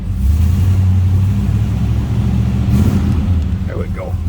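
A restored 1967 Buick GS 400 convertible's warmed-up engine runs with a steady, deep, close low rumble throughout, with a short bit of speech near the end.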